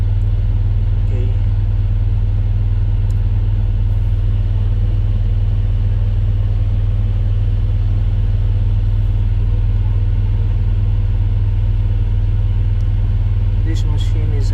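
A CAT 336D excavator with low engine oil pressure runs at a steady idle, a loud, constant low diesel rumble held throughout, with a few faint clicks and clanks on top.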